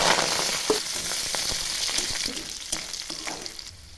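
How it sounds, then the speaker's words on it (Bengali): Chopped garlic and fenugreek leaves dropped into hot oil already crackling with dried chilies and mustard seeds, for a pea and ripe tomato chutney: a dense close sizzle with scattered pops and stirring scrapes that eases slightly toward the end. "এবার রসুন দিয়ে দেবো, রসুন কুচি আর মেথি পাতা।"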